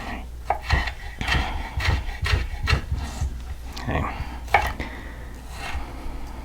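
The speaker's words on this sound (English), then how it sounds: "cutting these into strips, turning them 90 degrees, and cutting them into little pieces" A sharp knife chops vegetables for homemade salsa on a cutting board with small rubber feet, giving quick, irregular thuds and scraping strokes at close range.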